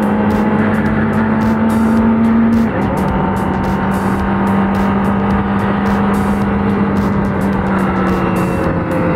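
Loud, steady engine drone from a Kawasaki ZX25R motorcycle ridden at speed, heard up close with constant wind rush and a brief dip in pitch partway through.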